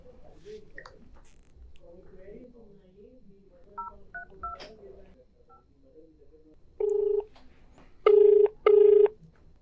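A telephone number is dialed for a call from a Hyderabad TV studio. Faint keypad tones come first, then louder touch-tone beeps, followed by two steady ringback tones with low background sounds underneath.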